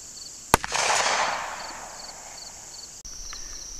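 A single rifle or pistol shot aimed at a target 65 yards away: one sharp crack near the start, followed by a broad rushing echo that fades over about a second, then quiet outdoor background with a faint click.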